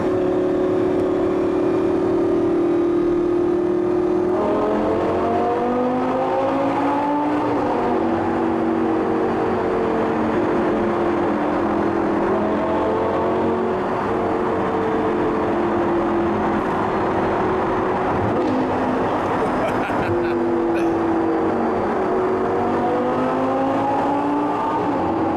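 A sports car with an aftermarket sports exhaust revs repeatedly, the engine note climbing and falling in several long sweeps over a continuous loud drone, close to the listener.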